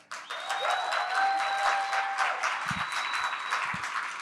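An audience at the RailsConf 2023 Ruby conference applauds, a dense crowd clapping that swells quickly and holds steady, with a few faint voices mixed in.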